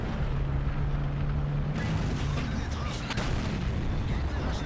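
Artillery fire in World of Tanks: a heavy, rumbling blast rolls in partway through over continuous battle noise and engine drone, followed by further booming impacts, while a voice talks underneath.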